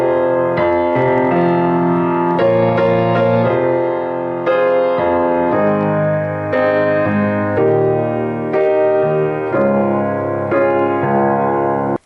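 Solo piano plays a song with both hands together, a steady flow of chords and melody notes at a moderate, even loudness with no voices.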